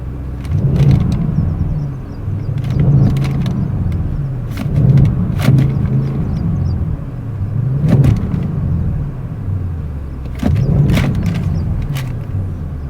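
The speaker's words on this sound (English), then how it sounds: "when you put it in the RS mode, you get the option to control the exhaust sound also, and as you can see, I have put engine sound on pronounced mode" A 2021 Audi RS7 sits stationary with its exhaust set to a pronounced mode, giving a deep idle rumble broken by five or six sharp revving blips at roughly two-second intervals, loud and close.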